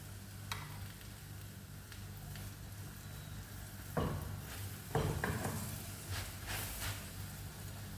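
Chapati cooking in oil on a hot pan, a low continuous sizzle with spatula scrapes and a couple of louder stirring knocks midway, no voices.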